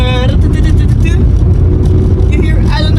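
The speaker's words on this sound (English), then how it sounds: "There is a lot of noise in the car because of my rear seat delete" Loud, steady drivetrain drone inside a BMW E46 M3 cabin with rear seat delete, gearbox whine and differential hum droning continuously under a low engine rumble, with a voice talking over it.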